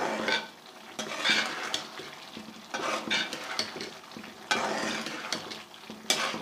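Mash dal being stirred with spices in a pan on high flame: irregular scraping and clattering strokes of a spoon against the pan over a soft sizzle, close by, with no speech.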